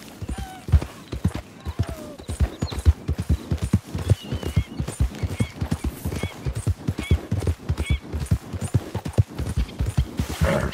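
Horse hooves galloping in Red Dead Redemption 2, a fast, steady clip-clop rhythm of sharp hoof strikes running throughout at close range, with occasional light rider sounds in the background.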